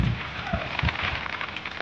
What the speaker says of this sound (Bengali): আমাদের এখানে প্রচুর বৃষ্টি,